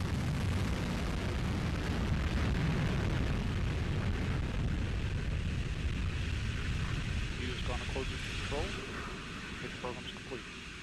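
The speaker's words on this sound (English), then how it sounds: "We have RD-180 ignition, and we have liftoff of the United Launch Alliance Atlas V rocket" Liftoff of a United Launch Alliance Atlas V rocket as its RD-180 engine ignites: a deep, broad crackling roar fills the air, slowly easing as it goes, while a voice speaks over it.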